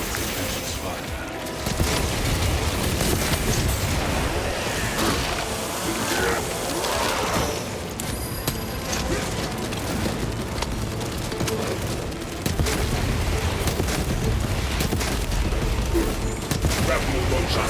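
Bombardment explosions rumble almost nonstop in Warhammer 40K: Space Marine, a dense, loud barrage of booms and crackling fire layered with battle noise, easing briefly around the middle before surging again.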